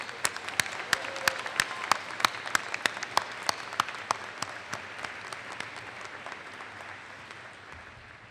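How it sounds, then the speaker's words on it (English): An audience at a high school graduation applauds, with loud sharp individual claps standing out over the dense crowd clapping, which gradually thins and fades toward the end. "Now give a round of applause to your parents and your grandparents."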